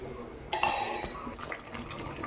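Wheat rava upma cooks in a pan, with a sudden bright sizzle and watery hiss that bursts out, holds for about half a second, then settles into soft bubbling.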